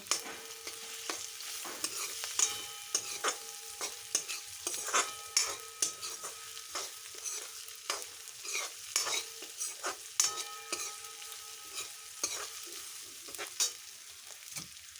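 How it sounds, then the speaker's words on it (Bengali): Fried onion stirred with ginger and garlic paste in a pan, soft steady sizzling with repeated scrapes and clinks of a spoon against the metal, quiet and close, with no one talking. "এবার আমি একে একে আদা বাটা রসুন বাটাটা দিয়ে দিচ্ছি দিয়ে ভালো করে নাড়াচাড়া করে নেব"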